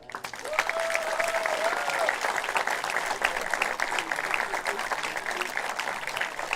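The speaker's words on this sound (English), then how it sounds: "And one last applause for all these wonderful teams." A crowd at a men's softball European Championship game applauds steadily, a dense close wash of clapping that holds its level throughout, with a brief tonal squeal near the start.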